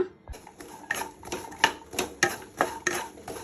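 Sliced okra stirred in oil in a pan for a Kannada-style sambar: a spoon scrapes and clinks against the metal pan in a steady rhythm of about three strokes per second, close and fairly quiet, with no talk.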